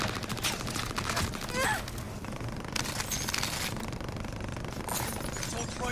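Scattered gunfire in Warzone Pacific, several separate bursts and cracks at moderate loudness with game ambience between them, plus a voice speaking over it.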